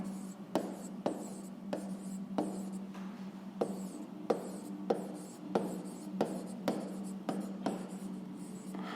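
Chalk or marker tapping and scratching on a board in a maths lesson, a steady series of sharp strokes roughly every half second, close and fairly quiet, with no talk over it.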